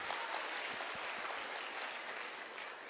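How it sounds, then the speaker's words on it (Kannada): An audience at a children's Dasara event in Shivamogga claps in sustained, dense applause that stays loud and steady throughout, with no talking over it. "ನಮ್ಮ ಚನ್ನಬಸಪ್ಪ ಸರ್ ಅವ್ರಿಗಾಗಿ ಒಂದು ಜೋರಾದ ಚಪ್ಪಾಳೆ ಬರಲಿ ಪ್ಲೀಸ್"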